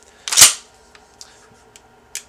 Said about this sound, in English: if I press that and bring the bolt back, it will eject the round out of the chamber